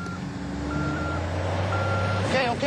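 A truck reverses at a roadside crash scene, its backup alarm beeping in steady intervals under loud engine rumble, with a voice briefly calling out near the end.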